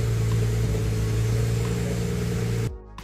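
A BMW 335i E92 with the N54 engine runs steadily at close range, a loud continuous droning hum that cuts off abruptly near the end.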